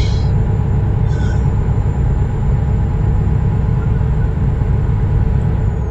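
Inside a truck cab, over a steady low engine rumble and a thin high whine, a cat meows twice briefly near the start, the calls short and fairly clear above the drone.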